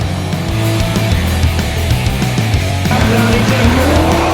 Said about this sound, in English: This is banger racing, full contact motorsport.